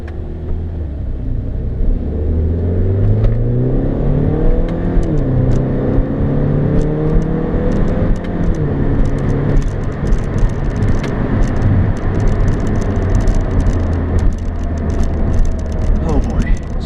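A 2013 Mini Cooper S engine revs hard and climbs through the paddle-shifted gears, a steady loud rumble with rising whine, heard from inside the cabin.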